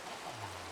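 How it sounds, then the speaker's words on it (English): Steady rain falling in the video game Minecraft, a faint, even hiss of broadband noise with a low tonal hum entering partway through, no voices. "with the rain coming down, I just found it incredibly relaxing in here"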